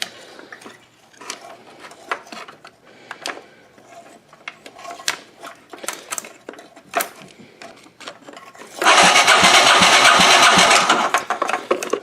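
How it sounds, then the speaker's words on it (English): A payloader's starter cranks the engine over near the end, a loud, close, rapid churning that runs for about three seconds after scattered clanks and knocks of work on the machine. "So the starter works."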